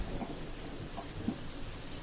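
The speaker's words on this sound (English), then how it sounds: "That was when it had begun to rain, and she realized just how dark the sky had gotten." Rain falls steadily through a dark storm with a low thunder rumble beneath it, a continuous wash of moderate loudness with a couple of brief thumps and no voices.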